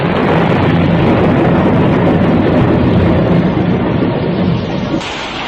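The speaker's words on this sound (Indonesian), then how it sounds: "Hujan yang turun gemersak seolah barisan prajurit segelar sepapan. Dan ledakan petir seolah panglimanya" Rain and thunder sound effect from an Indonesian audio drama: a loud, dense, continuous roar of downpour with deep rumbling underneath, shifting abruptly in tone just before the end.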